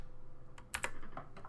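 Quiet computer keyboard typing: a few irregular keystrokes clustered together, close and soft, with a brief burst of clicks in the middle.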